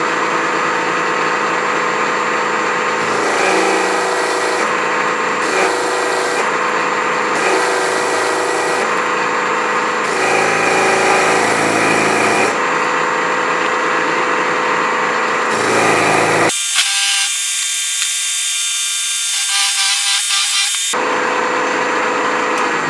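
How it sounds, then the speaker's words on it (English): Milling machine cutting a counterbore with a 1/2 inch end mill: loud, steady whirring and cutting tone in several runs, broken by brief pauses and one sharper, higher-pitched stretch near the end, no speech. "Now we're going to go back in with a 1/2 inch end mill until we enter that counter bore."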